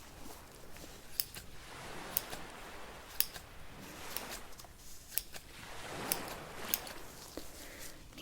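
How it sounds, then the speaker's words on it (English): Small scissors snip during belly button piercing prep, a soft, close series of crisp clicks at irregular intervals over a faint hiss, quiet and intimate, with no talking. "Need some better scissors."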